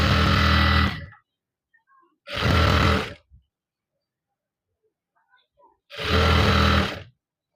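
A sewing machine stitches the inner seams of a pair of shorts in three close, loud bursts of about a second each, separated by silent pauses with faint handling noises.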